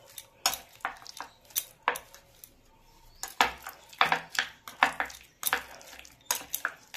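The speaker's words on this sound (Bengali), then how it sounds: "ভালো করে মাছের ডিমটাকে আমি নুন হলুদ মাখিয়ে নেব।" Fish roe is worked together with salt and turmeric in a dish, heard as a series of close, irregular clinks and scrapes of a utensil against the bowl, with quiet gaps between them.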